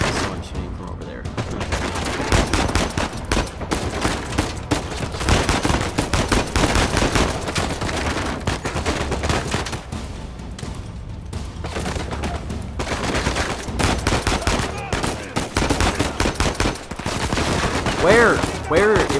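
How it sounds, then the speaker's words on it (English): Dense Uncharted 4 firefight gunfire crackles almost nonstop, with rapid volleys and scattered louder shots close by, while a person talks over the shooting. "There's someone shooting from over there."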